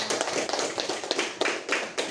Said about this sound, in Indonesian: Tepuk tangan dulu buat semuanya